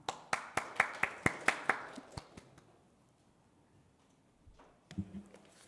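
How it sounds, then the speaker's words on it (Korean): An audience applauds at a youth housing policy forum to welcome a speaker, with a short burst of separate claps that fades out within a few seconds. "따뜻한 박수로 맞아주시기 바랍니다"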